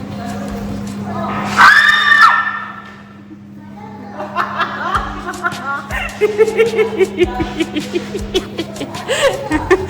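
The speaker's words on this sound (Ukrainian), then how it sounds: "Там треба виміряти рівень крику." Children scream at a science museum exhibit that measures loudness: one sustained, piercing shriek rises over a steady hum, followed by a busy stretch of excited voices, chatter and laughter nearby.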